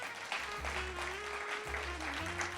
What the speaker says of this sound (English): Y'all can clap there.